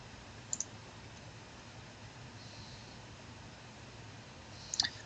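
A computer mouse clicks to press a search button, with two faint quick double clicks near the start and end over a quiet hiss.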